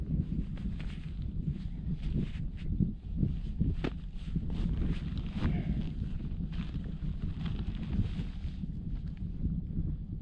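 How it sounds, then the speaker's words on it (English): Gusty wind buffets the microphone outdoors in freezing, deep snow during winter camping, producing a continuous low rumbling roar with uneven bursts, and no one speaking. "Sorry about the wind."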